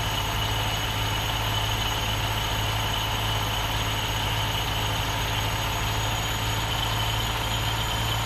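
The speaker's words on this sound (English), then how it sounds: "I freaking love the engine sound file." Semi truck engine idling in the Farming Simulator 19 video game, a continuous steady low drone with a faint high whine on top, unchanging throughout and with no voices.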